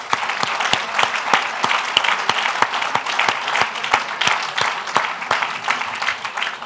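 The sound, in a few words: audience applauding at symposium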